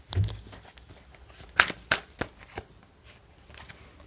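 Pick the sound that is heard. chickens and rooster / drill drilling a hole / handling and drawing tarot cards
handling and drawing tarot cards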